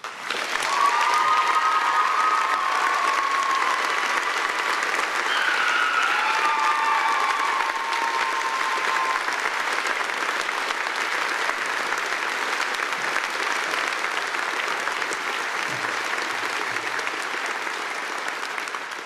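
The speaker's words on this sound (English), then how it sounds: "And another round of applause" Audience applause at a graduation ceremony, steady dense clapping from a large crowd that fills the hall at full strength, with a few faint whistles early on, and slowly eases over nearly twenty seconds.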